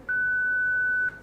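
A single clean, steady electronic tone from an OrCam assistive device sounds for about a second, then stops abruptly in a quiet room.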